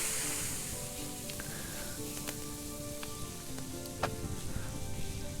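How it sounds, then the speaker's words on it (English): Meat roasts over a fire in Medieval Dynasty, giving a steady, soft crackling sizzle with scattered sharp pops, moderately quiet and without talk. "We're going to cook it all into roasted meat."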